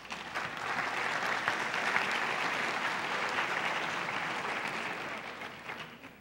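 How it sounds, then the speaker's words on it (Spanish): Sustained applause from a university forum audience after guests are introduced, a dense steady wash of many hands clapping throughout, fading slightly toward the end. "Quisiera que les dé un fuerte aplauso a nuestros invitados"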